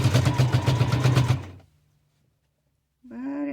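A worn sewing machine in need of an overhaul stitches fabric with a fast, steady rhythmic clatter that stops abruptly, followed by silence and then a short burst of speech.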